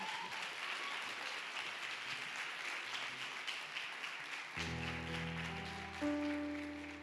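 A church congregation applauds steadily in a dense wash of clapping, joined partway through by sustained organ or keyboard chords.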